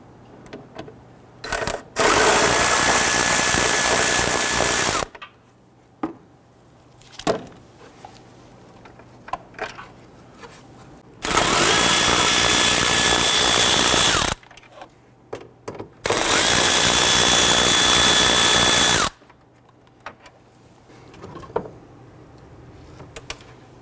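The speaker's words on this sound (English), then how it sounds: "We're gonna use our extension and our socket and get to this inboard one here." A ratchet with an extension and socket works on bracket bolts while replacing the windshield washer reservoir on a 2011-2023 Dodge Charger 3.6L V6, giving three long, loud buzzing runs separated by quiet gaps and scattered metallic clicks.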